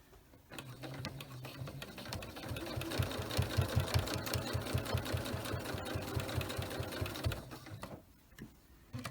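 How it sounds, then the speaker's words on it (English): Sewing machine stitching down quilt binding, a close rapid steady whirr that builds, runs for several seconds, then stops. "So I'm going to stitch down until I'm a 1/4 inch away from this edge."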